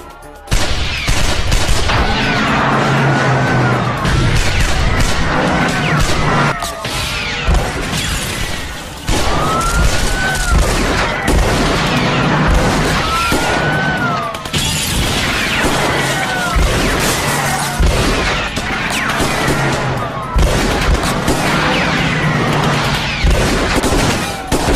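Heavy gunfire in an Indonesian comedy film, dense volleys of shots with crashes and impacts running continuously for about twenty-five seconds, loud and close, with brief shouted voices mixed in.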